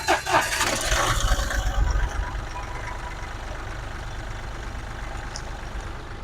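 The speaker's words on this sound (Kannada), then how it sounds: "ಇಂಜಿನ್ ಕೂಡ ಸ್ಟಾರ್ಟ್ ಮಾಡಿ ತೋರಿಸ್ತೀನಿ" A 2013 Mahindra Quanto seven-seater diesel turbo engine cranks and catches with a burst of noise, then settles into a steady low idle rumble that stays close and even for several seconds.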